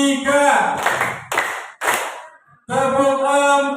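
Group hand clapping at a school Budaya Positif dissemination session in Indonesia, bursts of claps in a counted rhythm between spoken instructions, close and fairly loud with pauses between sets.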